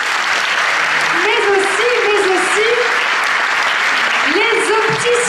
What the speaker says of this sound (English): On applaudit la boutique Grenier-Guédan encore une fois